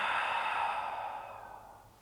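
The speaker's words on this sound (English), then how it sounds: "Exhale out the mouth." A slow, breathy exhale through the mouth during a gentle hands-free yoga practice at home, a soft airy rush lasting about two seconds that fades gradually, close and quiet with no talking.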